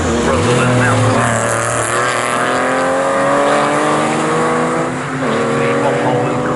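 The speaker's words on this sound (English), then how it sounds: "Together, it's a braking area for Russell and Nelson" Porsche Boxster and 997 race cars brake hard into a corner at Snetterton circuit, their engines roaring loud and close as the pitch drops with downshifts and tyres squeal briefly.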